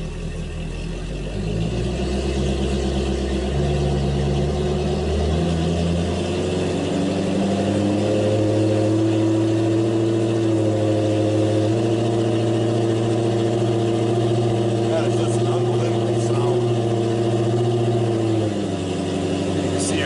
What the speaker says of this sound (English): Then going into forward, lift up the release lever, slap it into gear, apply some throttle.